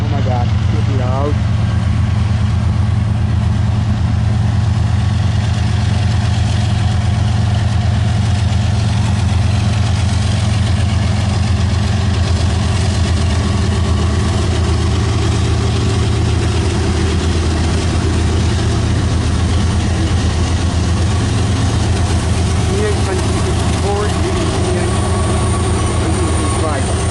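The locomotive of CN 385, a southbound freight train at Port Huron, Michigan, idles loudly and close, a steady deep diesel rumble that holds throughout while people talk nearby.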